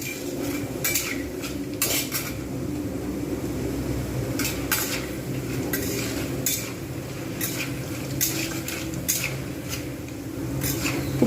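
Egg pasta being fried in a pan: a steady close sizzle runs under repeated sharp scrapes and clinks of a utensil against the pan, and no one speaks.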